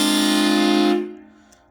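A HornBlasters Conductor's Special NIGHTMARE Edition train-style air horn, running on a 120 psi air supply, gives one loud, close, sustained chordal blast for about a second, then cuts off sharply.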